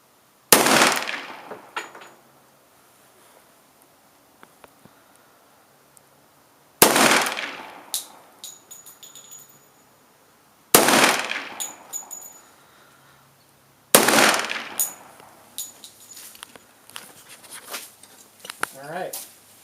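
Four loud, sharp pistol shots from 10mm and .40 S&W handguns ring out several seconds apart outdoors, each with a short echoing decay, and quieter clicks and handling noises fall between them.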